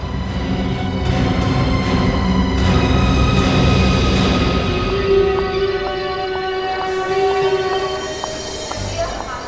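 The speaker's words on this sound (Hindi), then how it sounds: "वो शहर छोड़ के भागने वाले हैं सर, ट्रेन से जा रहे हैं" A train runs along the rails, a loud steady rumble of carriages with sustained horn-like tones and squealing pitches sliding in and out over nearly ten seconds.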